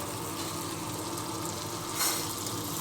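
Onions going into a pan of frying liver bring a soft, even sizzle with a brief louder hiss burst midway. The sound is quiet and close, with no voices.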